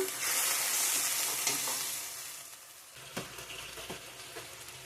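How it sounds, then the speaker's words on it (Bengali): A spice mixture for a cauliflower, potato and paneer curry is sautéed in a pan, making a soft continuous sizzle with a few faint stirring scrapes and clicks, no voices. "ভালো করে কষিয়ে নেব মশলাটা"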